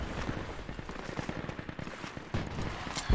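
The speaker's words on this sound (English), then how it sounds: "they're shooting at me" Bursts of automatic and single-shot gunfire ring out in the video game Project Reality during an insurgency match, some rapid and close, others sharper and farther off, with no talk over them.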